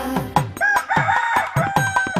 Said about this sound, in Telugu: కొక్కొరో కోయని కోడి కూయంగా